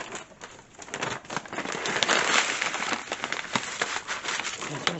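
Dry cat food pours into a chicken feed mix, a loose, rattling crackle of kibble that swells and thins in uneven bursts, close and moderately loud, with faint talk nearby.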